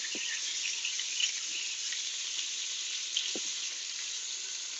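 Pork chops browning in an Instant Pot, a steady even hiss of searing meat with a couple of faint taps, moderately close and continuous.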